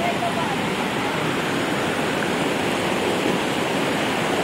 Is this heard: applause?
no